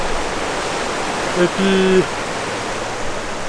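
An Arctic river flows with a steady, broad rushing wash heard close and loud. A brief voice cuts in midway.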